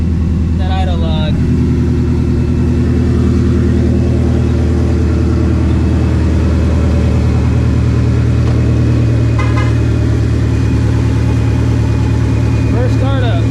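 A supercharged 900 hp Shelby GT350 V8 runs at a loud, steady idle after its first startup, with a deep continuous rumble throughout and brief voices audible over it.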